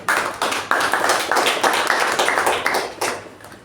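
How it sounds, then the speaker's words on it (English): A meeting audience gives a round of applause for its founders, steady loud clapping from many hands that carries on throughout without a break. "A big round of applause to them."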